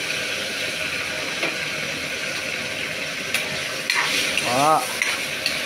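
Chicken pieces cooking in a pan for adobong sitaw, a steady close sizzle and frying hiss with stirring scrapes and a brief utensil clank near the end, a voice faintly present.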